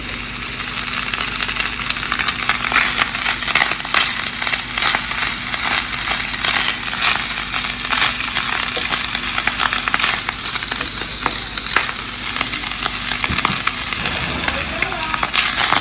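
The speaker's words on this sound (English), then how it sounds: "We saute the onions and the mushrooms." Onions and chanterelle mushrooms sautéing in a pan with garlic, a steady close sizzle and crackle running throughout, with occasional light stirring and faint talk in the background.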